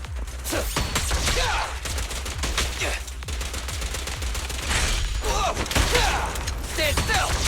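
Rapid bursts of gunfire fill the scene, dense volleys of sharp shots rattling on almost without pause, close and loud, with brief gaps between clusters.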